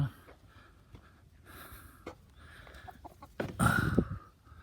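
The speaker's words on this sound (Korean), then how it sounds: "닭들이 보이죠?" Backyard chickens cluck and call in a coop as lettuce is brought to them, a steady scatter of nearby clucks with a louder burst of flapping and squawking near the end.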